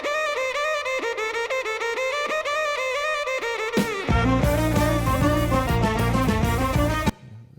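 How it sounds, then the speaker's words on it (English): A guitar drives a 1972 EMS synthesizer: a sustained, buzzing synthesizer tone follows the guitar's played notes, then swells into a dense, harsh electronic texture before cutting off abruptly. "So that's his guitar driving the EMS in 72."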